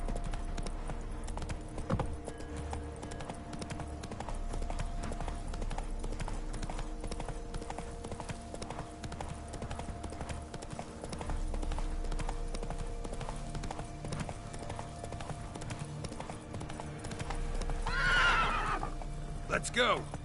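In The Witcher 3, the horse Roach gallops with a steady rhythmic clip-clop of hooves over a low background hum, then gives a loud neigh near the end.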